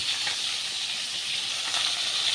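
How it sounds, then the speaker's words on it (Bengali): Fish frying in a pan produces a steady, dense hiss of hot oil, close and even in level, with no voices over its short span. "মাছটা দিয়ে ভাজা হোক"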